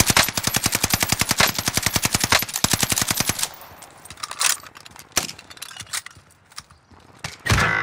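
Rapid automatic gunfire in Call of Duty: Warzone, a loud close burst of evenly spaced shots for about three and a half seconds, followed by scattered single shots and clanks in quieter game ambience.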